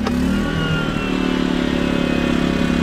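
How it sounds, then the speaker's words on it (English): A big portable gas generator runs steadily while charging a Tesla Model X, its engine giving a continuous, fairly loud droning hum with rough mechanical clatter and no speech. "seeing if we could charge our Tesla Model X with this portable generator"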